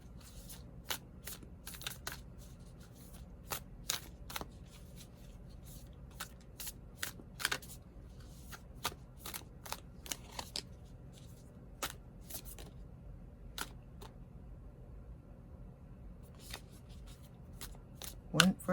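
Tarot cards shuffled by hand in a steady run of crisp riffling and snapping bursts, moderately close, with a quiet voice talking softly beneath at times.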